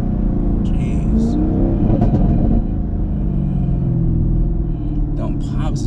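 A car engine revving hard with loud, close rumble and crackling exhaust pops, while someone talks over it.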